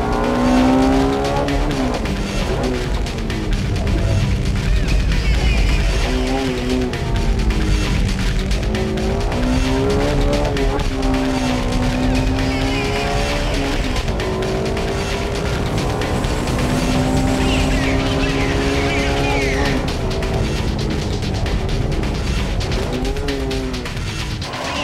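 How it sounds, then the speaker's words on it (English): A Honda Civic Type R driven hard through tight turns in first gear at corner exits, its engine loud and continuous, pitch climbing and dropping with each acceleration and lift, tires squealing at times, close and alone. "He showed us some serious driving on the tight turns by using first gear at corner exits"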